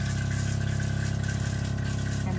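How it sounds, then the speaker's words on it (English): An RV toilet's water pump runs during a flush, giving a loud, steady electric hum with a pulsing buzz. It is close and unbroken for the whole stretch. "You can hear the water pump."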